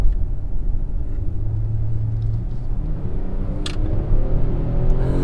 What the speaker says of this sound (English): we're gonna get on the highway real quick and give her the beans just to see how it feels